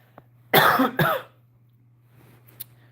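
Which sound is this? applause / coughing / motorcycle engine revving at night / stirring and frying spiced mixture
coughing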